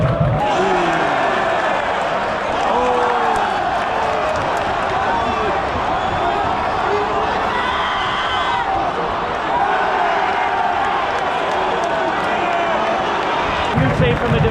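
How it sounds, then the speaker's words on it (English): Football crowd at a Euro 2024 match between Slovakia and Ukraine, a dense continuous roar of fans in a stadium with applause and chanting blended into it, loud and sustained throughout, with speech on top. "the fans are standing up and applauding"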